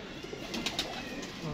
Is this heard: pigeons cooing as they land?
yes